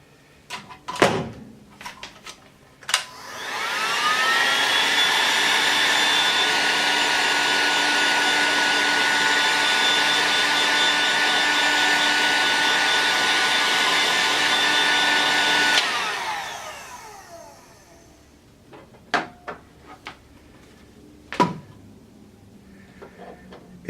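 A heat gun used on chair feet whirs on and blows a steady, loud hissing roar for about twelve seconds, then winds down. Sharp knocks and clatter come before and after it.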